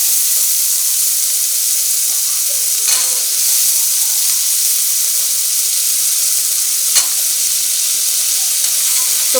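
Soaked green peas sautéing in a pan for jeera peas pulao, a steady bright sizzle and hiss with two short clinks of stirring, close and continuous, with no talking.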